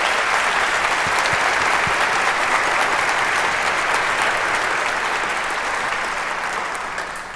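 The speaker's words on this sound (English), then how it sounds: "I want you guys to give these youth a round of applause." A church congregation applauds a group of youth, with dense, steady clapping across the whole stretch that tapers off slightly toward the end.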